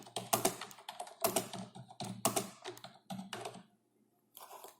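Rapid bursts of typing on a computer keyboard, keystrokes clattering in quick clusters with short pauses between them, fairly close and alone, ending in a brief silence before one last flurry.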